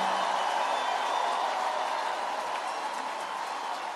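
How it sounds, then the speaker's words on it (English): Large church crowd at a Kenyan gathering clapping their hands, a steady, even roar of applause from many people that holds for the whole stretch. "Somebody clap your hands to Jesus and give God the glory."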